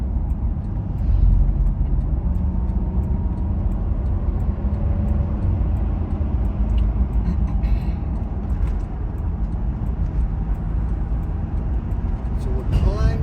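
Toyota Land Cruiser Cygnus climbing a mountain highway between Nairobi and Mombasa, a steady loud low engine and road drone heard from inside the cabin, continuous throughout with no break.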